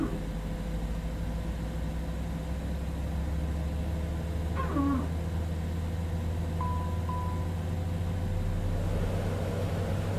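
A Citation X business jet engine starting up in a flight simulator game, a steady low droning hum with a brief higher whine and a faint tone partway through, no voices.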